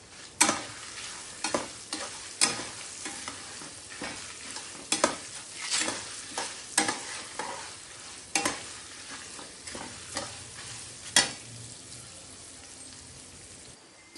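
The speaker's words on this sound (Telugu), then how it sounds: "చూసారు కదా, పోపు వేగిపోయింది." Tempering spices and red chilli fry in hot oil for pulihora pulusu, giving a steady close sizzle broken by repeated sharp scrapes of stirring, with no talk.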